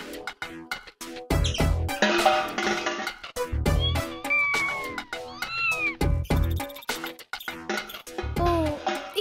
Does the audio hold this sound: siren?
no